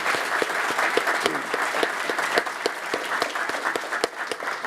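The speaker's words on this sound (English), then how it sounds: "So another round of applause for those guys." Audience at a Brevard County Fire Rescue graduation ceremony claps in sustained, dense applause, loud and steady throughout with crisp individual claps standing out, no talking.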